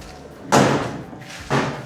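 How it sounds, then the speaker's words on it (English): Two heavy thuds of a vehicle door being slammed shut on an old truck, close and loud, about a second apart, with a quiet pause between. "close that door"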